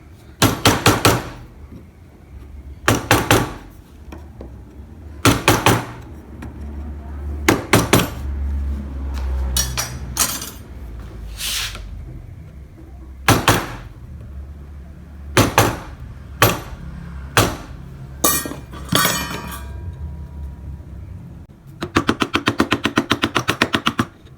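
Mallet tapping a chisel while carving wood, sharp knocks falling in small clusters of two or three with irregular gaps, ending in a quick rapid run of taps.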